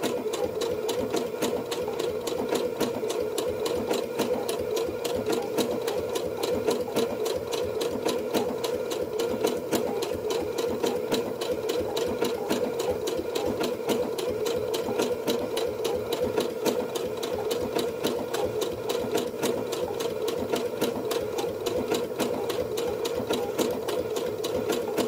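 A sewing machine stitches an appliqué onto fabric, running in a steady, continuous mechanical hum with a fast, even needle rhythm throughout, loud and close with no voices.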